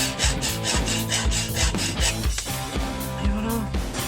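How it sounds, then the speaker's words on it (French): A hand saw cuts back and forth through a long piece to shorten it, in a steady rhythm of rasping strokes, loud and close, at a port in stifling heat. No one speaks. "Bon, eh ben allez, on va scier un petit peu."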